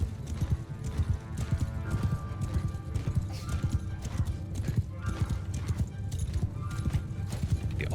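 Horse archers gallop in Mount & Blade Bannerlord, a close, rhythmic clatter of many hooves with occasional whinnies, continuing steadily across the whole span.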